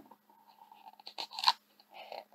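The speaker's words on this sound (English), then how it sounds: "Crunch, crunch, crunch. The frog eats the moth." Crisp crunching bursts as a red-eyed tree frog eats a moth, a quick run of close, sharp bites that grows loudest near the middle and ends in a softer chew.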